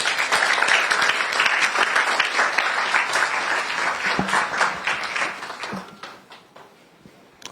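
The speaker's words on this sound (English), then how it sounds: "I do not like the way you people are applauding." An audience applauds at the launch event of the NSMQ 2023 national school quiz championship. Many hands clap in a loud, dense patter that thins and fades out over the last couple of seconds.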